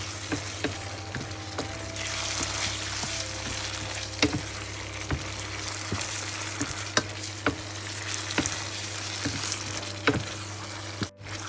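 Boiled mutton is sautéed with fried onions in a pan for a Tamil masala mutton fry, giving a steady loud sizzle with repeated scraping stirs of a spoon against the pan, close up and without talk.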